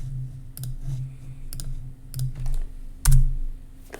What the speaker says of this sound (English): I can go ahead and type in our solution here